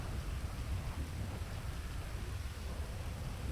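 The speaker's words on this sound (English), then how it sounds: "This is thunder." Steady, dense rain with a low thunder rumble underneath during a storm in Los Santos, in a GTA roleplay game; a continuous, fairly loud wash of noise with no voices.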